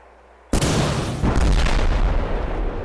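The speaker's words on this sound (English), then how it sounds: "We pull the rocket launcher out." In Arma 2, a rocket launcher fires with a sudden loud blast, followed by a heavy booming explosion and a long rumbling roar that stays loud to the end.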